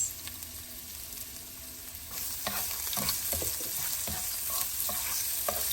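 Asafoetida sautéing in a hot pan while cooking eggplant cutlets: a soft, steady sizzle runs throughout, with a few louder stirring scrapes and crackles in the second half and no talking.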